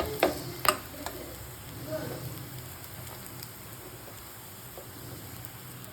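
Bitter gourd fry with coconut-garlic spice powder stirred slowly in a pan: a couple of sharp spatula knocks and scrapes at the start, then a soft continuous sizzle with occasional light scrapes, close and without speech.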